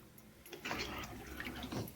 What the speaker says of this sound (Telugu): దీంట్లో మనం ఉడకడానికి సరిపడ్డ వాటర్ పోసుకుని 1 గ్లాస్ వాటర్